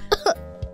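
A couple of short, sharp coughs come close together, followed by a softer throat-clearing sound, close and alone with no talk.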